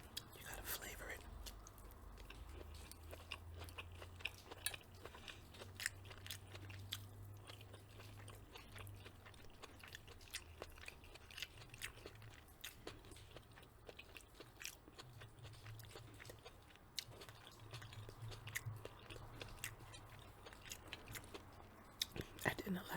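Roasted garlic cauliflower being bitten and chewed close up, with soft repeated crunchy bites and wet mastication running steadily throughout, quiet and intimate with a low background hum.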